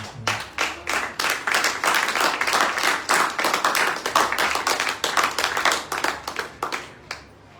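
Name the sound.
congregation clapping to acclaim Jesus Christ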